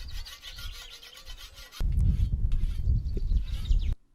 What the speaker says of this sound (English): I then use a small flat file to remove any folds or burrs.